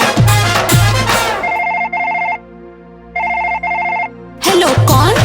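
A telephone ring tone sounds in a Sambalpuri romantic song after a call is placed, with two rhythmic bursts of ringing between loud musical passages, fairly prominent.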